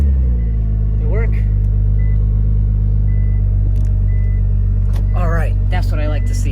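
A Nissan GT-R engine idles with a steady low rumble throughout, while a voice talks over it and a few faint chirps are heard in the background.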